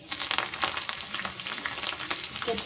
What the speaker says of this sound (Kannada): ಎಣ್ಣೆ ಬಿಸಿ ಆದ ತಕ್ಷಣ ಅದಕ್ಕೆ ಫಸ್ಟಿಗೆ ಕೊತ್ತಂಬರಿ ಹಾಕೋಬೇಕ್ರಿ